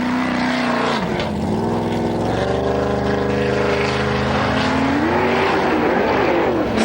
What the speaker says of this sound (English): The car seems absolutely perfect for these aquaplaning drives